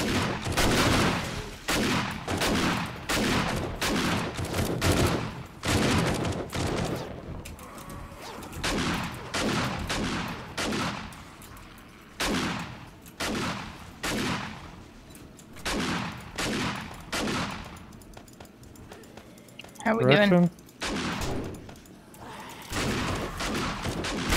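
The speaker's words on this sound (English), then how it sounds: "just shot both legs off a zombie as he was running away from me" Rapid bursts of gunfire in a zombie shooter video game, repeated volleys with short gaps between them, loud and up front.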